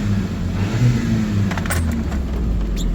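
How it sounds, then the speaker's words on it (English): A VW Golf Mk6 engine runs steadily with a low, continuous drone and mild revving swells over three seconds, close and fairly loud with no talking. "Even revs a bit better in my opinion."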